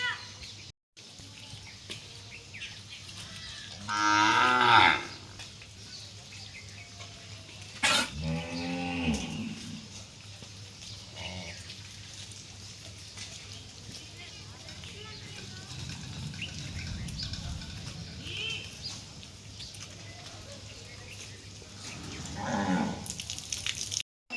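Cows low repeatedly at a village cowshed in rainy, muddy weather, several long moos rising at intervals over steady outdoor background noise, with some faint distant voices.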